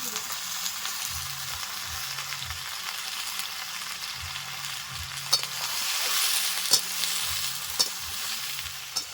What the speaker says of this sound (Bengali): লতিগুলো দেওয়ার পরে নেড়ে চেড়ে নিয়েছি